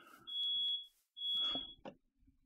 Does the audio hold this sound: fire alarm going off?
yes